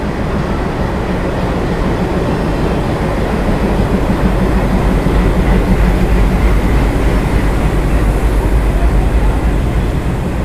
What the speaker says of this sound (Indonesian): ini kereta api sleeper yang sebelumnya saya naiki dari Purna